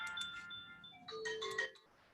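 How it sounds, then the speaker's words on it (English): Phone ringtone or alarm going off during an online meeting, a few melodic electronic tones repeating in a short pattern, moderately faint, heard alone without talk. "we are hearing a ringing sound. We're hearing the rings."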